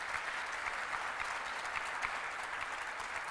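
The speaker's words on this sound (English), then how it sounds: "Let's give him another round of applause." Steady, dense applause from an audience at a governor's public announcement event in downtown Rochester, sustained and even throughout with no voices over it.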